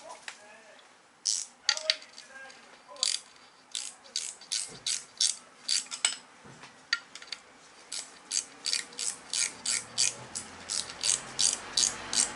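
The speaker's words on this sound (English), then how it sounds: "Again, I do like ratchet spanners, they make life a whole heap easier for these hard to reach places" A ratchet spanner is worked on a classic Mini race car engine in a workshop, with rapid clicking bursts of the pawl repeating in quick strokes, close and crisp, with faint talk at times.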